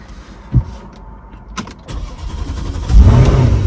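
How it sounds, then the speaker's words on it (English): A car sits with its engine running, a light click and a short whir of a power window moving, then a building rumble as the engine note grows louder toward the end, close and without talk. "Alright, so the cool thing about this car, you can change the suspension modes from comfort, normal to sport."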